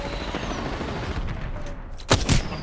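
Gunfire in Apex Legends during a ranked round, with a background bed of game ambience before a couple of sharp, loud shots near the end.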